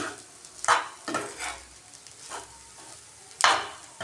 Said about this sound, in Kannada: ಇದನ್ನು ಈಗ ಕ್ಲೀನಾಗಿ ಮಿಕ್ಸ್ ಮಾಡ್ಕೋತೀನಿ.